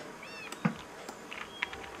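A cat meows in the Minecraft video game: one short clear meow near the start, then scattered game sound effects, quiet clicks and a brief high tone, all at low level with no talking.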